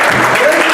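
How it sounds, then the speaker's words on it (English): Brief, loud burst of audience applause at a security conference closing ceremony, dense clapping with voices mixed in. "Applause for getting older."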